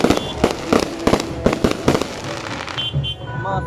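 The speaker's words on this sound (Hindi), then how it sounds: "अब इस तरफ पटाखा फोड़ेगा जो कि देखने में बहुत ही शानदार होता है" Firecrackers burst during a Muharram procession: a rapid string of sharp bangs and crackles, loud and close, with voices and crowd noise in the gaps near the end.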